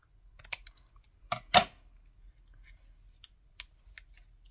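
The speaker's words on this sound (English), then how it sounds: "Cut it up smaller again." Scissors snip through paper for cardmaking, close and quiet, in a few short crisp cuts with two louder snips near the middle and small scattered clicks in a hushed room.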